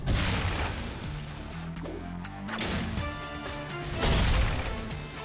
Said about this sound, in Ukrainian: Неонова бомба!